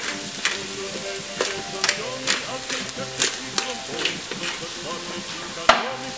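Carrots, onions and garlic sautéing in a pan for a tomato pasta sauce, a continuous sizzle with rhythmic stirring scrapes and taps repeating about every half second.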